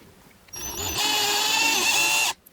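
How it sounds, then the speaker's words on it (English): A power drill fitted with a 3mm bit bores into a resin 3D print, spinning up abruptly into a steady close high whine for over a second before cutting off. "3mm is the diameter of the drill bit."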